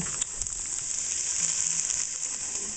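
Onions, celery and green onions sauté in hot bacon fat, giving a steady close-up sizzle and crackle with no pauses and no voices.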